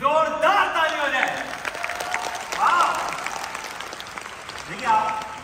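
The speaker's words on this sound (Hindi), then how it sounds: "एक जोरदार ताली हो जाए।" An audience at a stage craft awards ceremony applauds loudly and steadily for several seconds, a dense patter of clapping, with an announcer's amplified voice and cheers rising over it.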